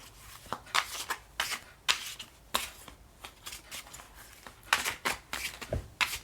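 Tarot cards are riffled and shuffled in quick, crisp bursts, a dozen or so sharp flutters and taps close by, with brief pauses between.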